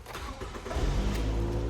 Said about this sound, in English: when I go into the vehicle, the car starts